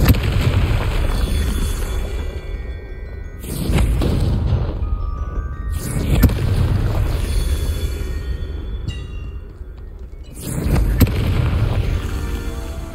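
Blasting-curse explosions in the Hogwarts Legacy video game: several loud booming bursts, each swelling then fading into a rumbling tail, recurring every few seconds over a continuous game backdrop.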